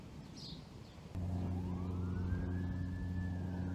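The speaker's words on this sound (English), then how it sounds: "And there's a police car." A police car siren wails and climbs in pitch as the vehicle approaches, rising suddenly over a steady low engine rumble and holding loud and close to the end.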